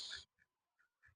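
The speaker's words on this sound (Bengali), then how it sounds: "দূরের হাঁস" A duck on a farm quacking a few short, faint calls spaced irregularly, following a brief louder burst of noise at the start.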